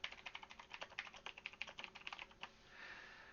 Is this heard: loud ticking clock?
no